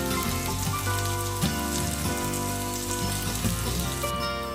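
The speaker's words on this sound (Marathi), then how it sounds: "गरम तव्यार ऑलिव्ह ऑयल घालून हरवी मिरसांग, लसूण, आले, करपेल्लीची पानां" Green chilli, garlic, ginger and curry leaves frying in hot olive oil on a pan, a dense, steady crackling sizzle that continues throughout, with soft background music underneath.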